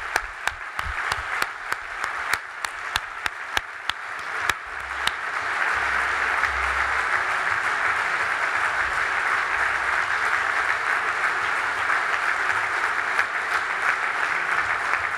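Crowd at a PSE-EE party congress applauding Jesús Eguiguren, starting with scattered individual claps that swell into loud, sustained applause filling the hall.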